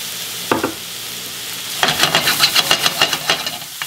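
Onions, garlic and diced red pepper fry in a pan for marinara sauce, quiet at first, then a loud hissing sizzle with rhythmic stirring strokes close by.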